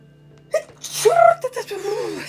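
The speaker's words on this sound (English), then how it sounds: "I have to remember not to do my sneezes like that when I'm on camera" A single sharp sneeze, close and fairly loud, followed by a brief murmured voice.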